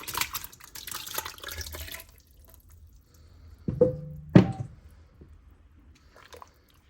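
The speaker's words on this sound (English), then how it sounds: "now we're going to add our tomatoes and the sauce to this broth" Canned tomatoes and sauce poured into broth in a pot for albondigas soup, giving a wet glug and squishy splashes after a stretch of low rustling, then falling quiet.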